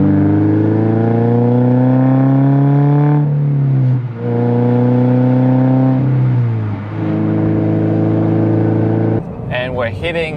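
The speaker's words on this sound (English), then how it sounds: "what I do like about this exhaust is you can do a couple of cool little things like" Subaru BRZ fitted with an axleback exhaust and muffler delete, revving in strong, loud blips with rising and falling engine pitch, a few pulls in sequence ending in a short crackle.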